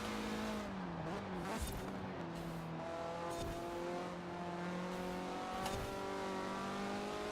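A 2016 Mazda MX-5 engine drones steadily in Forza Horizon 4, holding a sustained hum that climbs and dips slightly in pitch through shifts, fairly quiet and continuous, with brief tire and road noises.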